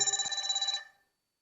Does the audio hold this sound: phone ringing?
yes